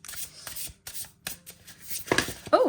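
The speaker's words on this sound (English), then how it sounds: "I will take some cards from each deck." Tarot cards are handled and drawn from several decks, giving a series of crisp, close shuffling and sliding taps, while a voice speaks briefly near the end.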